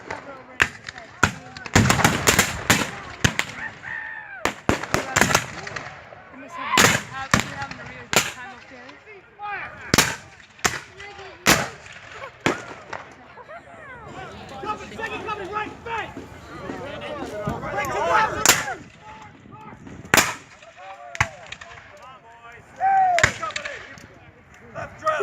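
Sharp cracks of gunfire ring out in irregular volleys at a Civil War battle reenactment, some shots near and loud, others farther off, over a steady background murmur.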